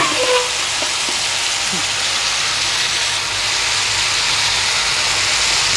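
Fish curry with onion and curry leaves fries in a pan, giving a loud, steady, broad sizzling hiss that runs unbroken and close throughout.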